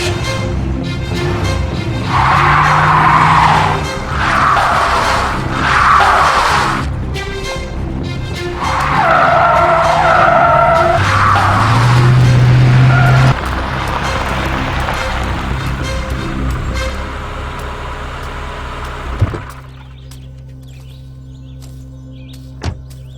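A car stuck in a pothole revs its engine hard while its wheels spin and squeal, in several long surging bursts. The revving dies down near the end, leaving a couple of sharp knocks over quieter idling.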